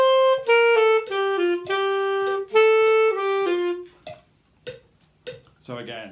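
Clarinet playing the part 2 version of a slurred phrase in a seventh-grade band piece, smooth connected sustained notes heard up close, trailing off into a few brief quieter sounds and a spoken word.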